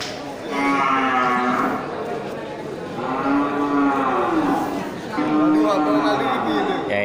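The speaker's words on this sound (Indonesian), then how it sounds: "ini sapi putih ya, sapi Brahma" Several white Brahman cattle low at a livestock market, three long drawn-out moos spread over the span, fairly close and loud, with crowd noise underneath.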